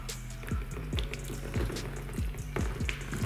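Boiling water from a kettle poured onto a car headlight, a close splashing, trickling stream with repeated spattering bursts as it hits the plastic lens.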